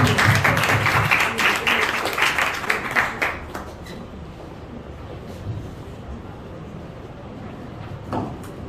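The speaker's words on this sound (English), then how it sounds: "Can we have a round of applause, please?" A crowd at a school ceremony honouring interns claps in a dense burst of applause that fades after a few seconds, leaving a quieter room with scattered noise.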